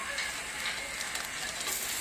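Chopped onions sizzling in a hot pan for pizza toppings, a steady close frying hiss with light crackles and no talking.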